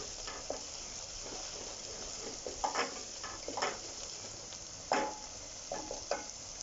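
Ginger garlic paste with whole garam masala frying in oil for a keema, a steady low sizzle broken by several soft scraping stirs, close and without talk.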